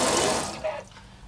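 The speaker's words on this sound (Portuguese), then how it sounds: "Aqui é a pia. Tem água quente e água fria" Water running from the sink tap in a motorhome kitchen, a brief close splash that fades out within about a second.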